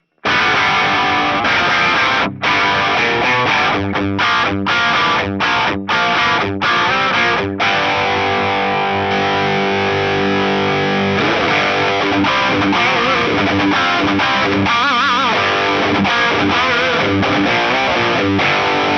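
Distorted electric guitar through a preamp pedal and the power amp of a BOSS Waza Tube Amp Expander, loud chugging chords and sustained notes with stops and starts, then ringing crunchy chords.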